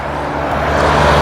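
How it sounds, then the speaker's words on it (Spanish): Cars passing on a street in Cuba, a loud, close, continuous broadband road roar that swells slightly over the short moment. "no sé si me escucharon bien por el sonido de los carros"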